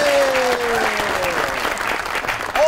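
Studio audience applause on a comedy talk show as a guest is introduced: loud, dense, steady clapping that fills the whole stretch, with a thin sustained tone faintly running beneath it.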